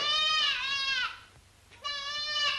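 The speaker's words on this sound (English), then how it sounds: "Sounded like a goat to me." A goat bleats twice in a 1942 film scene, two close, wavering, nasal cries separated by a short quiet gap.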